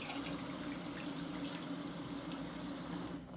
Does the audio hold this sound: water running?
yes